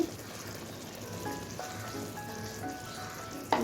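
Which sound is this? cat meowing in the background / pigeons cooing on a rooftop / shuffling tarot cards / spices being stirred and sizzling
spices being stirred and sizzling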